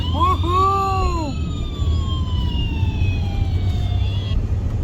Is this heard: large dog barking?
no